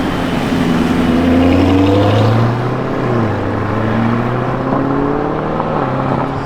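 A bright green Lamborghini Urus drives past on the road, engine note climbing and then dropping as it goes by, loud and close, its tone gliding downward as it recedes.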